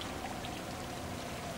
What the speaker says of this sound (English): wading through that rush of water would be too dangerous